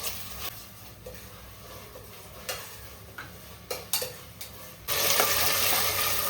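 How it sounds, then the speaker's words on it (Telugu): Ginger garlic paste with masala frying in a pan for a prawn curry, a steady low sizzle broken by scattered sharp stirring scrapes and clinks. Near the end a louder burst of hissing takes over. "అల్లం వెల్లుల్లి పేస్ట్ కూడా వేసాక పచ్చివాసం పోయే వరకు వేపు వేపుకుందాం మనం"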